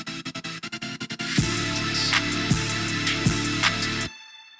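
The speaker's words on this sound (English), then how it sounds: "the way I got that sound was this trance gate from KHS" A trance gate effect on an electronic dance track chops the sound into rapid stuttering pulses, then a punchy kick-driven beat drop runs under the gated pattern before cutting off sharply.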